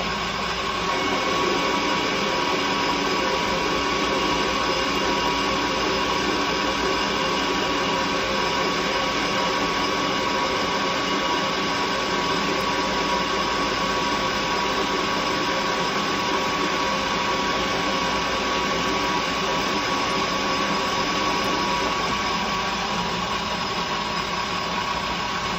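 A machine cuts steel for a hexagon-drive four-jaw chuck key, giving off a continuous, even mechanical hum and whir with a steady tonal whine, close and unbroken, with no talking.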